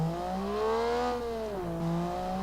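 A car engine in the driving game BeamNG.drive revs steadily, its droning tone climbing and dipping in pitch, loud and continuous.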